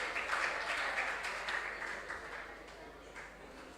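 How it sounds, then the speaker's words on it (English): Applause for the competing contestants and schools at a junior science and maths quiz, a soft, distant wash of many hands clapping that fades slowly over a few seconds. "A round of applause to all our competing contestants and"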